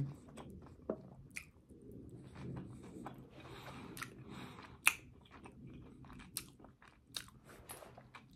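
Close, quiet chewing of a chopped salad with chickpeas and salami, with soft crunches and wet squishy bites in an irregular rhythm and sharp little clicks between, with no talk.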